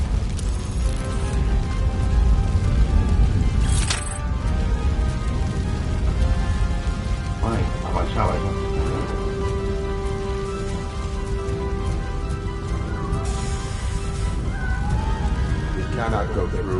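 Fire burning in the video game RoboCop: Rogue City, a dense, steady crackling roar that fills the scene, with a few brief tonal game sounds rising above it.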